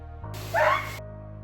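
Dog yelping sharply once during nail clipping, a single close, high, whining yelp that rises over a low steady hum and then fades.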